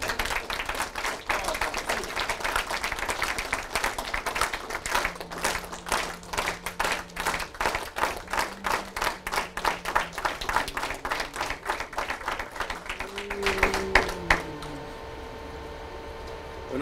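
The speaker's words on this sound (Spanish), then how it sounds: "Démosle un abrazo y un aplauso de bienvenida campesina" A live audience at a Spanish-language community group event claps in welcome, fairly sparse individual claps that build into a sustained, moderately loud patter, with brief voices and tones near the end.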